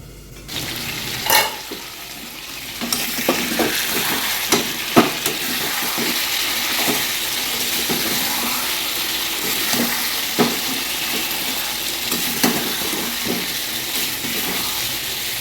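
Chicken sautéing and being stirred in a pan, a steady broadband sizzle with sharp scrapes and clacks of the spatula recurring throughout, close and fairly loud, no voices.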